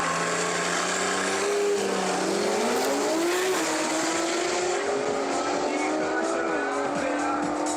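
BMW cars accelerate hard on a drag racing strip at a season final in Odesa. A loud, continuous engine roar climbs in pitch through the gears without letting up.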